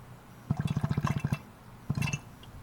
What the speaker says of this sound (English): now we got a steady drip